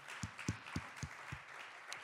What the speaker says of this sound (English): Give the Lord a loud round of applause.